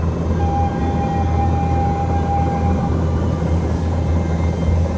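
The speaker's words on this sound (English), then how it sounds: "Oh, that's the train." A train passing near the woods gives a steady low rumble with a sustained whistle-like tone for a few seconds, fairly loud and continuous with no voices.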